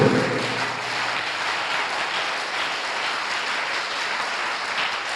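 A church congregation at a Sunday service applauds together, a steady, dense wash of clapping filling the room throughout without pause.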